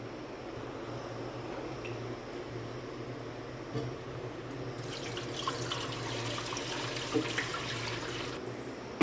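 Water from a bucket set on a stool is poured into a fish tank, starting as a low steady wash and swelling into a louder, splashing pour about halfway through.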